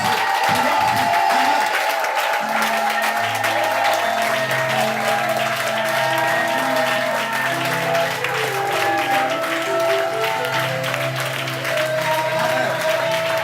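A congregation at a church vigil applauds God, sustained dense clapping from a crowd under a held keyboard or organ chord and a voice, continuous throughout.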